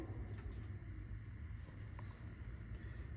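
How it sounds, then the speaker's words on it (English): A used business-class desktop PC bought at a thrift store, its cooling fan spinning up after power on: a steady, even whirring hum with low rumble, continuous and fairly close, no voices. "Fan spinning."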